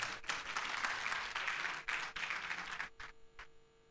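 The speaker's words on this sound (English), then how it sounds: "Please, a round of applause for yourselves." Audience applause at an African AI summit, a fairly quiet wash of clapping from the hall that holds steady, then thins out and stops in the final second.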